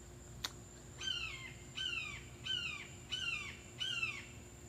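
Five harsh, rasping caws from a crow or hawk outdoors, evenly spaced roughly a second apart, moderately distant over a soft steady background hum.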